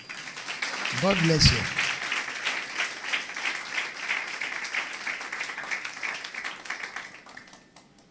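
A congregation at a Christmas church service claps in sustained applause, with a voice speaking briefly over it early on before the clapping carries on alone and fades away toward the end.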